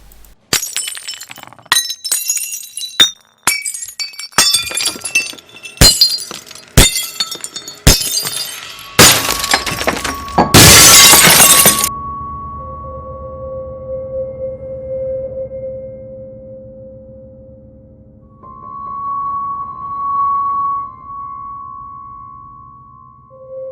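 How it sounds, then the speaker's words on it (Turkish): Glass windows shatter in a sound effect, a rapid series of sharp cracks and clinks building to a loud crash, then fading into eerie tonal hums and ringing. "camların kendi kendilerine kırıldığını gördüklerini söylerler"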